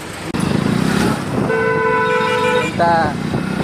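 A vehicle horn honks in two blasts, a long sustained toot followed by a shorter one, over the hum of a running motor and nearby talking voices.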